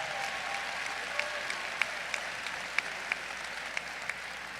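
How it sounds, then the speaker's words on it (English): A commencement crowd applauds the graduating class in a large venue, a broad, even wash of clapping heard from a distance, with a few sharper claps or whoops standing out now and then. "Give them a big round of applause."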